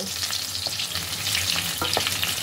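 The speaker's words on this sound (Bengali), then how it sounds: "এবার মাছগুলোকে দুপাশ উল্টে আমি ভালোভাবে ভেজে নেব।" Prawns frying in a pan for chilli prawn, a continuous close sizzle with occasional pops and scraping as they are turned, no talk.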